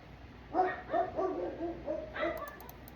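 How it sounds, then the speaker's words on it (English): A few dogs bark in the neighborhood, several short muffled barks in an uneven cluster, distant and fairly faint over low background hiss, with no talking. "One dog starts to bark and the rest to go too."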